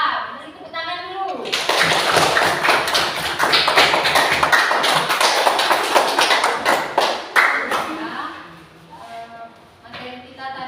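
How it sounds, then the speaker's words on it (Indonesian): Children in a classroom clap together in a dense, sustained burst lasting several seconds, loud and close, with a few sharp slaps as it fades out and voices around it. "Beri tepuk tangan dulu."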